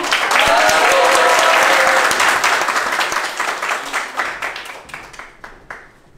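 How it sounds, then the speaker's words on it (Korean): At a Korean mini demo day presentation, an audience gives loud applause that starts as a dense burst, then thins into scattered individual claps and fades out toward the end. "큰 박수로 맞이해주세요"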